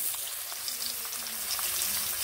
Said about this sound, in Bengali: এবার আমি বেগুনগুলোকে তেলে দিয়ে অল্প অল্প করে ভেজে নেব।